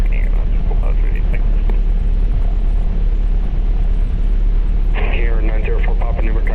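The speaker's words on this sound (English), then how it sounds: "this engine is running beautifully." Piper Cherokee 140 light aircraft engine idling on the ground at New Bern, a loud continuous low drone with faint radio-like voices breaking in briefly.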